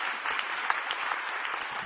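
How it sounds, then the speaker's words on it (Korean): Church congregation at Onnuri Church applauding in thanks during a worship service, a steady dense wash of many hands clapping at once, fairly distant and even, with no talk over it. "오늘 이 밤에도 임하신 살아계신 하나님께 우리 감사의 박수 먼저 올려드리겠습니다"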